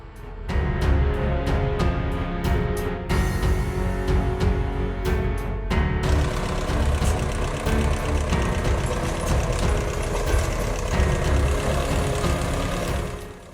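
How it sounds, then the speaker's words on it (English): An LKT-81 timber tractor hauling a Lyric 3T cable car, its heavy engine running steadily and loudly, with a series of sharp clanks and knocks over the opening seconds. "the LKT-81 timber tractor effortlessly hauls the Lyric 3T cable car."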